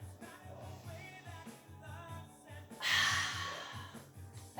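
Breathing during a pilates exercise: one strong, breathy exhale lands midway, heard over steady rhythmic background music.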